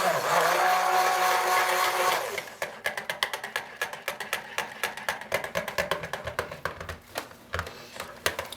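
A stick blender whirs steadily through cold process soap batter for about two seconds, then gives way to a run of short clattering pulses and taps, fairly close and moderately loud with no talking.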